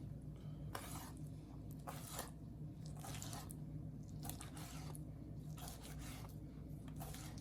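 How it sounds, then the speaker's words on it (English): A sharp kitchen knife slices through washed raw chicken, giving several soft, faint squishing cuts spaced a second or so apart in a quiet room. "I just slice them."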